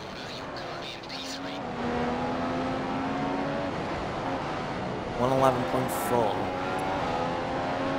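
Formula 1 car engine from the F1 2015 racing game at the Austrian Grand Prix, a loud, steady high whine rising and shifting pitch through gears while a player talks over it.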